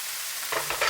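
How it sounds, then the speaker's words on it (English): A spoon stirs fish roll filling of carrots, thyme and seasoning in a hot pan, a soft sizzle with two brief scraping strokes near the end, close and alone. "Make sure to continuously stir."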